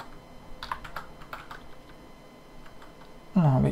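Typing on a computer keyboard, a run of light, close key clicks at an uneven pace, quiet, followed by a short burst of speech at the end.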